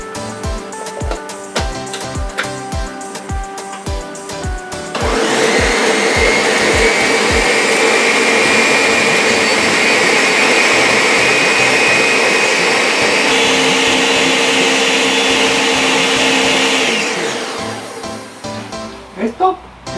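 A blender mixes a blackberry and orange smoothie, a loud steady whirring roar that starts abruptly, shifts pitch once partway through, then winds down. It comes after a run of rhythmic thumps, with talking in the background.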